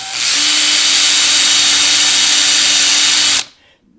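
Power drill whirring at high speed, a loud close steady whine held for about three seconds before it stops abruptly into near silence.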